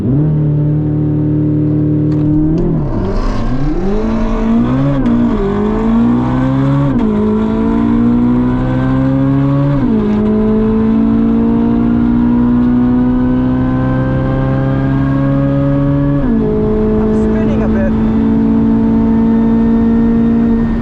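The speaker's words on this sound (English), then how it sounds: "watch these runs to see how these two cars spread down the half mile" A C8 Corvette Z06 and a roughly 900-horsepower modified Ford GT500 run a half-mile drag race. Loud engines climb in pitch through repeated gear shifts for about twenty seconds, with no talking.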